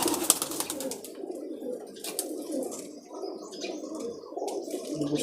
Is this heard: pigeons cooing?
yes